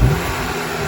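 A Honda Civic Si engine fitted with an HPS silicone intake gives a brief, loud burst of revving with a broad, airy roar, heard up close with no talking.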